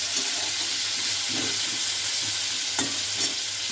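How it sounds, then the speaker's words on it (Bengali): Potato pieces fry in hot oil in a pan, a loud steady hiss with a few soft scraping stirs and light knocks scattered through, nobody speaking. "এবার আলুগুলো ভেজে নেওয়া হচ্ছে।"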